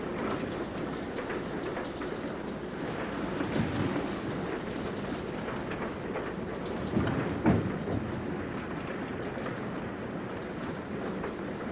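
Steady rumbling rattle of a moving train heard from inside a carriage, with low rolling noise and faint clacks throughout, no voices.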